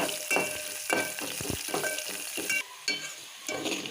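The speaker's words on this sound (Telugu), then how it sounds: "కొంచెం కరివేపాకు ఆనియన్ ముక్కలు ఇది కొంచెం ఫ్రై అవ్వనివ్వాలి" Onions and curry leaves frying in a pan, a bright sizzle broken by repeated stirring scrapes in a loose rhythm, close up with no talking.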